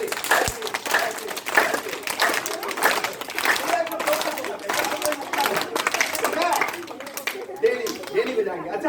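A group claps their hands together during a yoga exercise session, rhythmic bursts of clapping repeating under an instructor's continuous spoken guidance.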